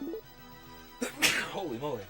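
A person sneezes once, a sharp burst that follows a brief spoken exclamation, with talking continuing right after.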